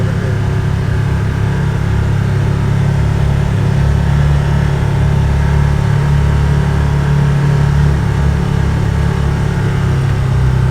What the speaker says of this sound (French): là on le fait en tracteur, puis on a un bon tracteur